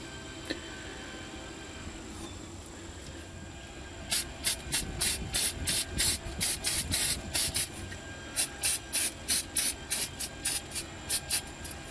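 Short rapid bursts of an aerosol can spray protector coating onto cranking battery terminals, a quick run of hissing puffs starting after a quiet lead-in, then a brief pause and another series of spurts.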